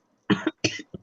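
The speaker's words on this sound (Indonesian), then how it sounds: "Lagi batuk" A person coughs three times in quick succession, two fuller hacking coughs followed by a short, softer one, close and clear with no talking.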